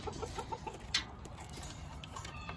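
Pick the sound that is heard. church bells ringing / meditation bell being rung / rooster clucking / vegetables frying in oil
rooster clucking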